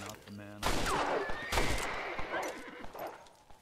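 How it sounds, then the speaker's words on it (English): Gunshots fired at a wolf in Red Dead Redemption, two loud close reports with ringing tails over game ambience, with a horse whinnying and hooves in the background. "I was shooting a wolf"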